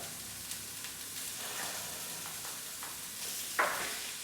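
Beef sizzling in a hot pan as it browns and crisps for a beef bourguignon, a steady close frying hiss with a few sharper pops and spits, louder near the end.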